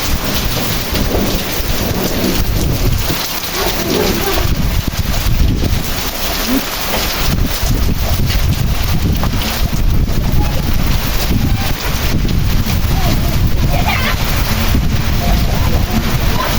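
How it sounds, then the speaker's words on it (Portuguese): Heavy thunderstorm over the Pernambuco backcountry, with rain pouring down steadily, gusting wind buffeting the microphone and low rolling thunder rumbling throughout, loud and continuous with no talk. "Tá trovejando, minha gente."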